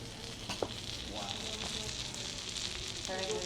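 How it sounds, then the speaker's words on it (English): A curry dish fries with a steady, soft sizzle and faint crackles throughout, served at a restaurant in Manila, heard close but quiet with no talking. "you can hear it sizzling"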